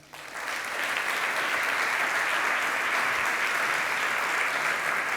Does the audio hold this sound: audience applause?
yes